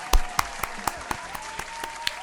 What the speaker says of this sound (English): Y'all clap it up for Myron one more time.